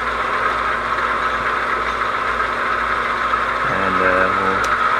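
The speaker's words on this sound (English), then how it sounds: "you have to rev up the engine a little bit before you put it into gear" A tank engine in a T-34 versus Tiger tank simulator game runs as a steady, loud mechanical drone. The pitch climbs as the engine revs near the end.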